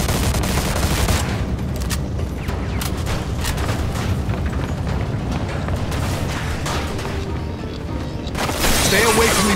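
Gunfire in the video game Mafia II, with dense, rapid volleys of shots and booming blasts that rattle continuously and loudly throughout a chaotic shootout.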